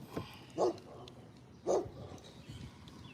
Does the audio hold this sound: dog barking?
yes